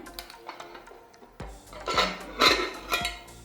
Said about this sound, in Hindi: अब हम ढक्कन को खोलते हैं।